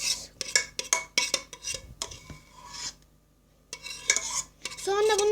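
Spoon scraping and spreading batter for a cat's-tongue cake in a pan, a series of close, rasping strokes with short pauses between them.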